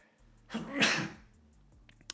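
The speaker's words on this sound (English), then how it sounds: "I sneezed and it's pretty loud" One loud, close sneeze bursts out sharply and fades, followed by quiet.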